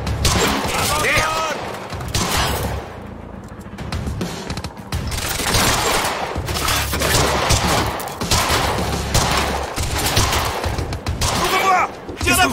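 Dense, continuous gunfire from a firefight in the video game Quantum Break, with rapid bursts and loud overlapping shots that run almost without pause. Shouting voices cut in between and over the shooting.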